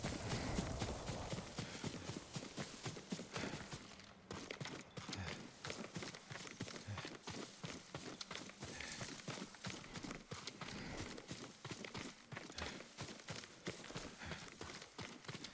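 A horse's hooves clip-clop steadily through a Ghost of Tsushima game scene, a continuous rhythmic run of close, fairly loud hoofbeats over a busy ambient background.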